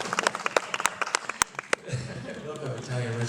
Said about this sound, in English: I love how Italian restaurant gets applause